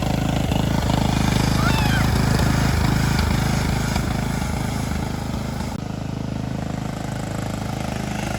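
A neglected riding lawn mower being converted into a race mower roars steadily nearby as it is driven, its engine note shifting slightly partway through, loud and continuous throughout.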